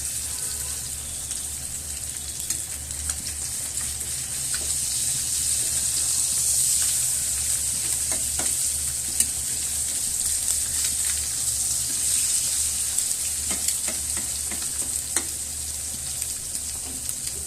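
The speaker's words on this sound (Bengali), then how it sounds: "এখন দিয়ে দেবো আস্ত কয়টা ডিম" Whole eggs fry in a pan with a continuous loud sizzle and bubbling, close up, and small clicks and knocks of the pan come and go; nobody speaks over it.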